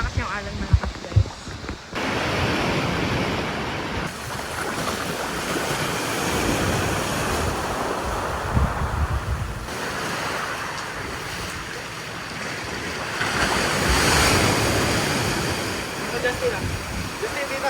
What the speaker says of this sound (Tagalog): Malakas yung alon, malakas guys.